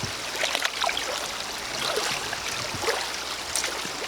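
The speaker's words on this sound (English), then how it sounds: "water's just running off them" Water trickles and drips steadily off soaked Altberg Defender leather boots outdoors after time in snow, a close, continuous watery splashing with small irregular drops throughout.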